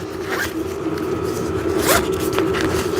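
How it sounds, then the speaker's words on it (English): Zipper on the compartment of a backdrop stand's ballast bag being pulled, a few close scratchy zips in quick bursts over a steady low hum, with no talk. "And then this is where you have your zipper compartment."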